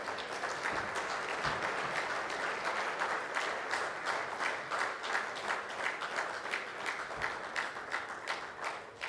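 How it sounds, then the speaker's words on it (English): Delegates at an international technical conference applaud the organizing committee, with steady sustained clapping across the room that shows distinct individual claps and continues for about nine seconds. "I request all of you present here to applaud them for their efforts"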